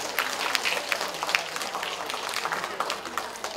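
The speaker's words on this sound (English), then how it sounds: "let's put our hands together and clap for yourselves." Children at a kids' school event clap for themselves, a lively, fairly faint scatter of quick claps from a small group, steady throughout.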